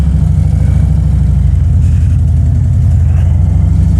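A 2024 Harley-Davidson CVO motorcycle with a cam position sensor fault is ridden, its engine a loud, steady, low throbbing rumble close to the microphone, with no talk.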